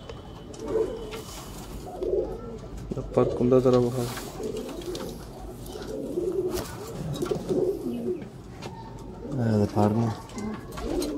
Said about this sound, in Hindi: हाँ कबूतर है माशाल्लाह